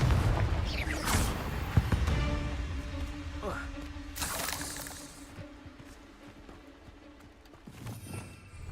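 Confringo fire spells blasting in Hogwarts Legacy: several booming explosive bursts and crashes spread through the scene, mixed with a voice calling out spell names and lingering tonal effects.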